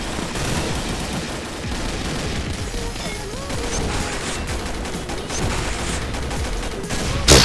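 Burst gunfire rattles almost without pause in a zombie shooter game, dense and loud from start to end with a sharp crack at the close.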